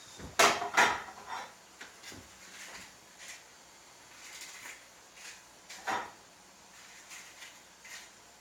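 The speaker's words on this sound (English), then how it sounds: "Get the muffin pan." A muffin pan being taken out of a kitchen cupboard, with a few loud wooden knocks and metallic clatters close by, then scattered quieter bumps and rattles.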